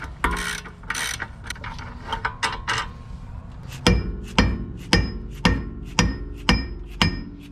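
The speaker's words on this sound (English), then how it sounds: "then I'll take out those bolts." A ratchet removing strut bolts on an MK3 Supra during a coilover install: scattered clunks and taps first, then a run of sharp, evenly spaced metallic ratchet clicks, close and clear, with no talking.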